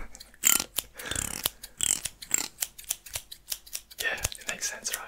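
Close, crisp snips of scissors cutting hair during a soft, relaxing haircut, heard as quick repeated clicks in uneven bursts.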